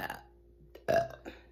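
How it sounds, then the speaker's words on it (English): A deliberate burp made on command rings out loud and close, a short abrupt belch with a brief vocal tail and quiet gaps around it. "Just burp."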